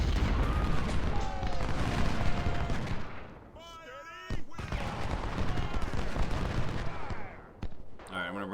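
Dense continuous battle din of Civil War gunfire and booming artillery at Antietam in the game Ultimate General: Civil War, loud and sustained with a short dip midway before the barrage resumes.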